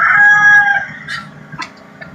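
Chickens cluck and a rooster crows nearby, several short bursts of calls over a low steady background hum, with no talking.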